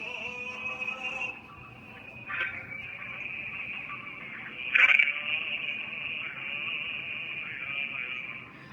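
On-hold music from a 1A2 key telephone system plays through a cell phone, thin and tinny with a sustained narrow tone and muffled, compressed texture throughout.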